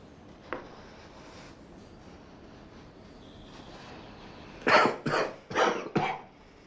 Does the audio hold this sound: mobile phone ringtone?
no